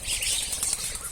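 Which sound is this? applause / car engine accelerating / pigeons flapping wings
pigeons flapping wings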